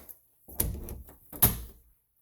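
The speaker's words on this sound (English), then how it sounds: "and shut another door." A door in a house being shut, two close knocking clunks about a second apart, each with a brief rattle, followed by silence.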